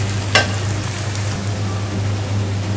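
Garlic paste fries in a pan for a spicy duck curry, a constant close hiss of sizzling oil with one sharp spatter near the start, steady and without speech.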